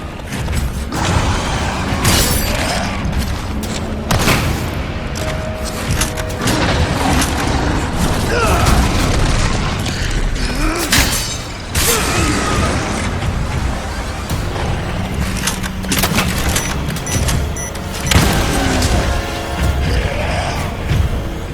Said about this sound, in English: This thing just survived a huge-ass explosion.